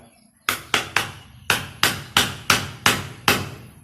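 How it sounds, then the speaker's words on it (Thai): Ten sharp, evenly spaced knocks of a wooden stick being hammered into a PVC pipe, each hit ringing briefly before the next. "ใช้ไม้ตัวนี้นะครับอ่ะมาตีให้มันเข้าไปก่อนนะครับ"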